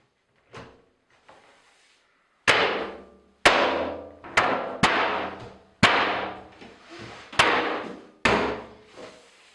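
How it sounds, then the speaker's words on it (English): A bath panel is pushed onto its button fixings, giving two soft knocks followed by six loud, sharp impacts. Each impact rings out briefly in a close room. "we can now install the panel onto the bath. It's a straight push-on"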